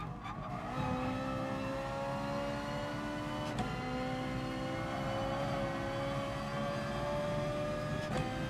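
A Ferrari Group 4 race car engine in Gran Turismo Sport holds a smooth, rising high-pitched wail at moderate level, with sharp gear-change clicks near the start, middle and end.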